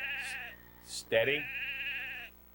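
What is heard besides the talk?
sheep bleating during sheepdog herding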